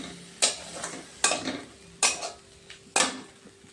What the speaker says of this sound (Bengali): মশলাগুলোকে একটু ভালোভাবে আমি এখন কষিয়ে নিচ্ছি।